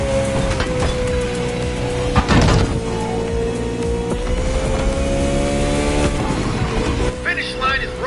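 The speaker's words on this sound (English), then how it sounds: "Koenigsegg, fastest hypercar of the day." A Koenigsegg hypercar racing at speed, its engine a loud, sustained drone that climbs in pitch across shifts, with a sharper surge partway through, heard alone with no talking.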